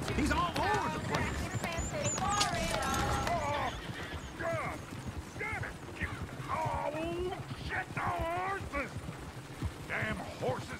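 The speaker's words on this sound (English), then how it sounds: "Damn horses!" Horses in the Red Dead Redemption 2 video game whinny and neigh repeatedly, with clip-clop of hooves and busy game sounds, loud and close, under lively background talk and game voices.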